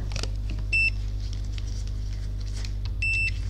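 Continuity-mode multimeter beeps while probing an Acer E5-772G laptop motherboard after water damage: two short steady tones, one early and one near the end, over a constant low electrical hum.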